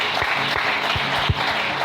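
Church congregation applauding in steady, dense clapping, close and lively, a brief burst with no talking over it.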